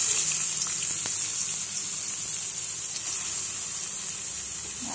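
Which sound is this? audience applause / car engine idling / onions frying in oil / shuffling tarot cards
onions frying in oil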